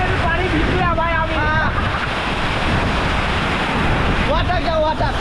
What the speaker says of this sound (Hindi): यहाँ पर बहुत हवा तेज आ रहा है